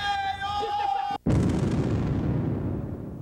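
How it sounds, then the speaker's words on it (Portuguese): Artillery bombardment in a historical scene of the Vaccine Revolt in Rio de Janeiro: a sustained tone is cut off by a sudden loud explosion whose heavy rumble fades slowly, alone and close. "Lá vem bombardeio!"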